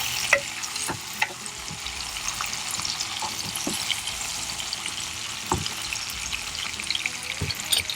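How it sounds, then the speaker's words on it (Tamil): Onions and tomatoes sizzle and crackle steadily in a hot pan, with a few clinks and scrapes of stirring scattered throughout. "வெங்காயம் தக்காளி மட்டும்தான் போட்டு இன்னும் குக் பண்ணிகிட்ருக்கோம்."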